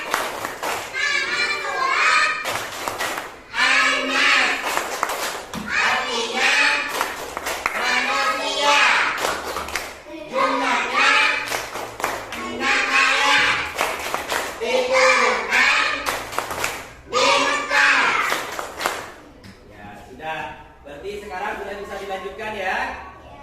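A class of children in an Indonesian school lesson claps a rhythmic, chanted pattern together, with sharp repeated hand claps mixed with loud children's voices throughout, tapering off near the end.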